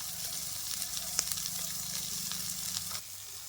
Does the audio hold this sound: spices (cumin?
yes